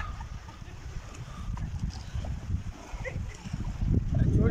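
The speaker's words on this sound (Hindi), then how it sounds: "पानी की बहुत ही ख़तरनाक आवाज़ आ रही है।" A steady low rumble of rushing water at a dam in Skardu, with wind noise, growing louder toward the end.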